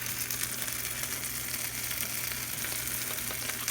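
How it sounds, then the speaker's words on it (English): A soaked torrija slice fries in hot oil in a pan, giving a steady, close, full sizzle that holds throughout with no voices. "I'm going to coat this really well and then fry it in that oil"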